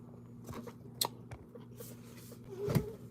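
Close, crisp crunches of a cracker being bitten and chewed, a few sharp bites scattered over a quiet room with faint background hum.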